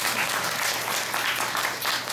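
An audience in a theater applauds during a Q&A session for the musical Smoke. Thick, continuous clapping from many hands fills the room at a steady, moderately loud level and is not broken by speech.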